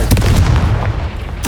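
A Confringo fire spell in Hogwarts Legacy blasts off in short, punchy booms, a rapid cluster of loud bursts near the start and another sharp hit at the end, with a rumbling low tail between.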